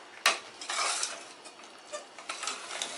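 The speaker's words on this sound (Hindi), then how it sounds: "पनीर डालने के बाद लगातार चला के 2 मिनट के लिए तेज आंच पे कुक किया है।" A spoon scrapes and clinks against a pan as grated paneer is stirred into carrot halwa over high heat, a few short irregular strokes close by with no voices.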